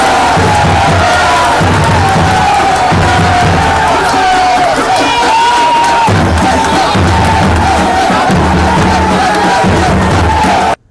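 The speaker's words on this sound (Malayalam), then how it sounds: "പറഞ്ഞു വെച്ചതുപോലെ കയ്യടിയും മുദ്രാവാക്യം വിളിയും ക്യാമറ ഫ്ളാഷുകൾ മിന്നിമറയലും." A crowd at a campaign event in the new fishing harbour at Vizhinjam applauds and shouts slogans as a large fish is held up. The roar of voices and clapping is loud and continuous, then cuts off abruptly.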